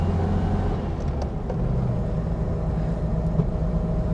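A 1949 VW Beetle Hebmüller cabriolet runs with a steady, loud low rumble, its air-cooled engine heard from inside the car as an even drone with no talk over it.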